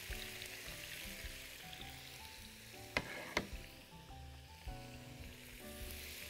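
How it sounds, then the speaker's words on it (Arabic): Calamari and shrimp sizzle steadily in oil in a pan for Egyptian sayadeya rice, a continuous frying hiss with a couple of sharp utensil clinks near the middle and a light stirring scrape later. "هشوح الناحية التانية الأسماك"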